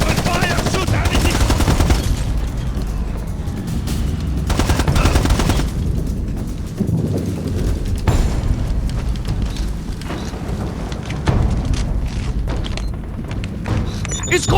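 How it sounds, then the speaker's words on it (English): Heavy machine-gun bursts and booming explosions from the Ghost Recon Advanced Warfighter 2 campaign hammer almost nonstop, loud and close, with shouted voices woven through the din. "Open fire! Shoot anything!"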